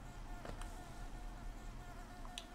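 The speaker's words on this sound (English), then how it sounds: "They kind of sound like bees, man." Steady insect buzzing in the video game Hollow Knight drones throughout, like a swarm of bees hovering close by, with a couple of brief higher chirps near the start and end.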